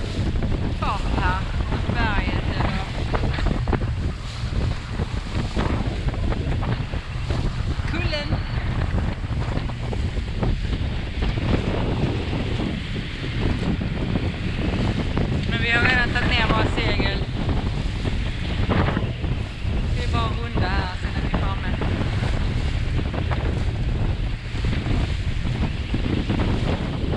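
Strong wind buffets the microphone while waves wash against the hull of a sailboat entering the harbor at Muros, a loud, continuous rush with surging water. Faint voices come through at moments.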